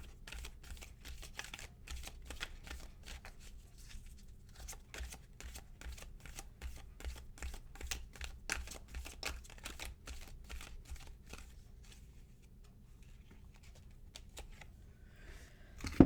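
A Halloween oracle card deck being shuffled, a quick run of close, crisp riffling flicks and card slaps that slows and quietens toward the end, no talking.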